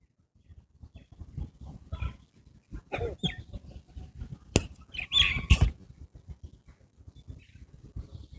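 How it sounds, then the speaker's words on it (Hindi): Birds calling outdoors in a garden, scattered chirps and calls in bursts over a steady low background, moderately near and clear with no talk. "पक्षियों की आवाजों को सुने।"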